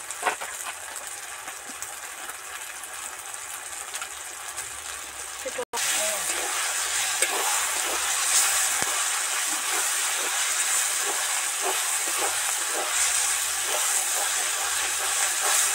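Spice masala with turmeric and chili powder frying in oil for Bengali-style chicken, a steady broadband sizzle and hiss that jumps louder about halfway through and then holds, with faint crackles throughout.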